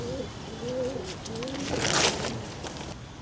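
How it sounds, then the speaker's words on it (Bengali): Pigeons coo in soft, repeated low phrases from a backyard coop on a rainy day, a few rolling calls close by against steady background noise and a brief brighter rustle midway. "এদিকে হচ্ছে আমাদের কবুতরগুলো এখনো খোলা হয় না।"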